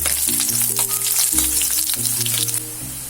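Sliced shallots sizzle in hot oil with a loud, dense crackle that holds steady and close. Tonal background music plays over the frying.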